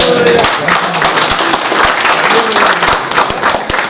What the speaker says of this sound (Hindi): जितने अफराद बैठे हो वो मेरी मोहब्बत में न सही, ऐलान कुरैशी के इस्तकबाल में तालियां बजा देंगे।